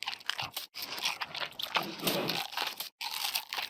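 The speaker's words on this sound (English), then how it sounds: "Sounds for pandas biting. For them eating items." Crunchy chewing and biting noises of a panda eating in Minecraft Java Edition, a steady run of crackly munches with two short pauses, close up and fairly quiet.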